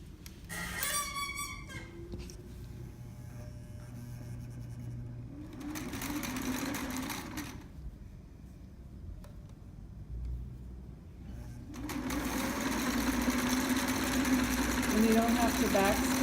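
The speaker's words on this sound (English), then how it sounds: "You're going to sew the center back seam at 1/2 inch on the fashion fabric and the lining." A sewing machine stitches the half-inch center back seam of a trapper's hat through fashion fabric and lining, whirring in bursts midway and then steadily to the end, with a voice talking near the start.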